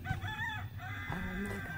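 A rooster crows close to a house, one drawn-out call with a rising and falling contour standing clearly over a steady low background hum.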